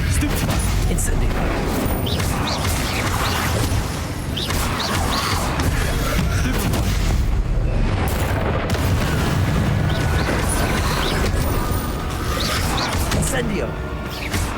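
Incendio fire spell blasts in Hogwarts Legacy, a dense, continuous barrage of booming, crashing spell impacts and whooshes filling the scene, loud and busy throughout with combat clutter layered on top.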